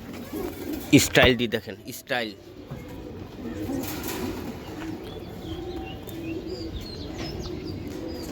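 Giribaz pigeons coo in low, soft murmurs throughout, with faint chirps; someone talks over them at the start, then the cooing continues steadily in the background.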